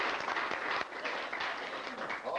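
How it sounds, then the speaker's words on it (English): An audience at a reunion show applauds for Eddie, a brief, moderately distant burst of clapping that swells and dips over a couple of seconds. "Give Eddie a big round of applause."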